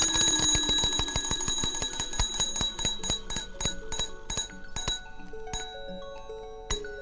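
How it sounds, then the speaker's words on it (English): A bell driven by an early electric telegraph rings in a rapid train of metallic strikes, then slows to spaced single dings, each leaving a ringing tone. "and triggers a bell."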